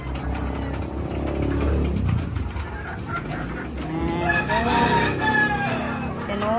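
A crowd of hens clucking and squabbling over feed close by, busy and continuous, with a rooster's call rising near the end.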